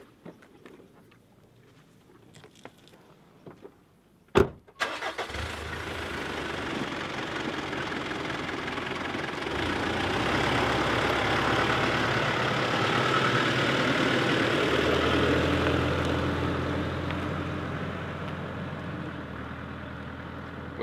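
A Mitsubishi Pajero Montero Edition 30 SUV: a few faint clicks and a door thud, then the engine cranks and fires and settles into a steady, fairly loud idle that swells slightly as it runs.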